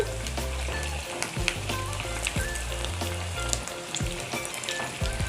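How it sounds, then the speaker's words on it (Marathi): Sabudana vada fry in hot oil over a medium flame, a busy crackling sizzle full of popping bubbles and spatters that runs steadily throughout, with no talk. "गॅस ना मध्यम आचेवर तळून घ्यायचे"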